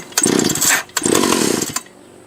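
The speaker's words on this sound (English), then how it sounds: "I'm going to put the choke on, half throttle, and let's see how it goes here." An antique Stihl 031 AV chainsaw under repair, choke on and half throttle, fires in two loud, close, sputtering bursts of about half a second each, then dies away.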